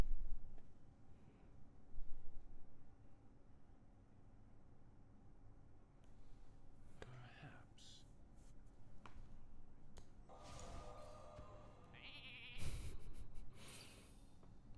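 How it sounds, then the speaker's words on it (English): Sheep bleats in the card game Hearthstone as a minion is turned into a sheep. Several short, quiet bleats come in bursts over faint background, with a brighter chime-like effect near the end. "You're a sheep now."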